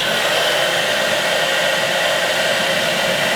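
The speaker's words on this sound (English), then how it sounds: "we'll blow dry it again" A hair dryer blowing over freshly airbrushed paint on a crankbait fishing lure, a loud, steady whoosh that holds constant without pause.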